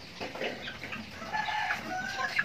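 Chickens cluck steadily while a rooster crows, with fowl sounds layered and fairly close throughout.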